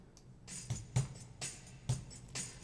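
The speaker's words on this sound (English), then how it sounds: "I already did the drums, which sound like this." A pre-recorded drum loop for a live video game music session, with steady kick thumps and bright cymbal-like hits repeating in a moderate rhythm, fairly quiet and heard alone.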